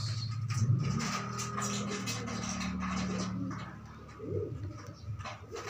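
Pigeons cooing close by as the flock settles down in the morning, a run of low, throaty coos rolling one after another over soft background noise.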